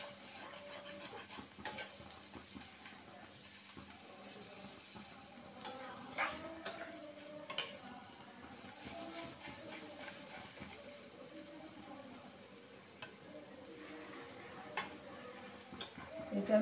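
Ginger-garlic paste and ground spices fry over low heat in a pan, giving a faint, steady sizzle with occasional stirring scrapes and light clinks of a spoon against the pan.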